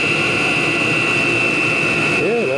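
A Chinese diesel heater burning HV46 hydraulic oil drones with a loud steady fan whine and roaring burn as it begins its power-down cycle, a short voice sounding near the end.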